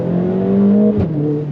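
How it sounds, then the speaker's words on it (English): A 2021 Mercedes-Benz GLA AMG 45 engine drones loudly from inside the cabin, then its pitch drops abruptly on a gear change, marked by a brief exhaust pop before the engine settles again. "Oh, I love those little pops when it changes gears."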